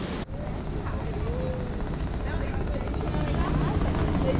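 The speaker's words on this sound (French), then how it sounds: "tu vois un hélicoptère." A helicopter's rotor thumps in a continuous low, throbbing drone, fairly loud and steady, with a voice speaking over it.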